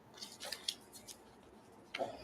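A deck of tarot cards is being shuffled, giving faint, close papery flicks and soft snaps in a few short bursts with quiet gaps between them.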